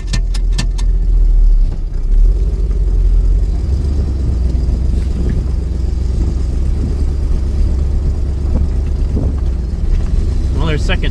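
A V8-swapped Ford Ranger with multiple exhaust leaks drives along, its engine giving a loud, steady, rumbling drone that runs unbroken throughout.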